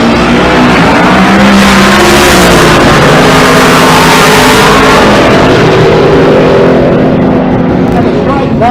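A Cadillac drag racing car, the four-door rocket, launches down the left lane at a Pueblo, Colorado race week. Its engine roars loud and continuous, a dense, steady blast from start to finish.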